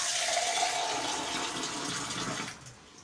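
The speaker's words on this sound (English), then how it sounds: "I'm gonna go ahead and add some water." A steady stream of water pours into a container holding about two teaspoons of cloves, a loud close splashing gush that tapers off at the end.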